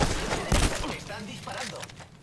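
Gunfire in the video game Apex Legends, a burst of loud shots near the start and a strong blast around the half-second mark, with players talking over the gameplay.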